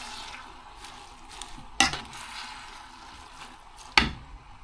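Cabbage leaves stir-fried with noodles, vegetables and meat in a pan: a low steady sizzle with two sharp scraping clanks of the utensil against the pan, close and without talk.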